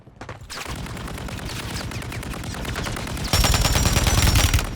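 Sustained automatic gunfire from an enemy spraying through a doorway in Warzone 3, loud and close, with rapid continuous bursts that grow heavier near the end and no talking over them.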